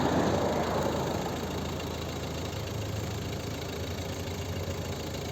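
A 2011 Volvo V50 with an eight-valve 1.6 HDi diesel rated at 115 hp idles steadily with a low, even rumble and a faint clatter. It sounds close, and no one speaks over it.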